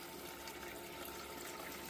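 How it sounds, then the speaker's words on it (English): Water running steadily across a Miller table used for separating material on mats, a faint, even rushing wash with no breaks or voices. "I've increased the water flow a bit"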